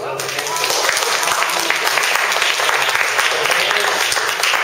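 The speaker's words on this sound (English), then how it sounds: "Let's give Tom a round of applause." An audience gives a warm, sustained round of applause for a club member finishing his tenth advanced speech project, with dense overlapping clapping that stays loud and steady throughout.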